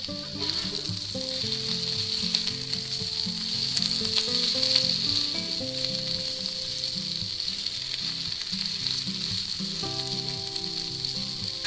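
Potatoes and onions for home fries, seasoned with salt, pepper, garlic powder and smoked paprika, sizzle steadily in a pan, a constant crackling fry with soft music playing underneath.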